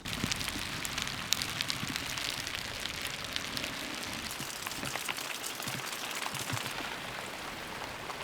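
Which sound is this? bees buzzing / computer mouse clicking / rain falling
rain falling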